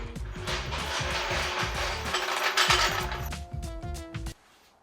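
A car jack lowers a car off its pinch weld with a fast run of ratcheting mechanical clicks and metallic grinding, loud and close, ending abruptly after about four seconds.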